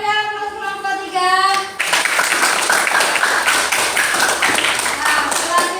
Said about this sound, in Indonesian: kita beri aplaus kelompok 3